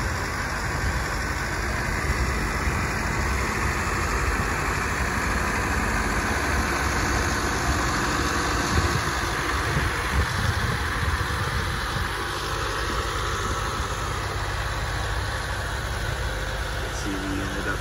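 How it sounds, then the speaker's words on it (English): A 2016 Freightliner Sprinter refrigerated van with a dual rear wheel chassis and a Thermo King VC520 unit on top runs at high idle, a steady, loud, unbroken engine drone with a constant hum throughout. "It is in high idle mode right now."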